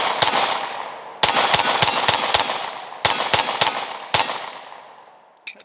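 A Smith & Wesson M&P 5.7 pistol fires in close, sharp bursts of rapid shots: a single shot, a quick string of four, then strings of three and two, each crack ringing briefly with no talking.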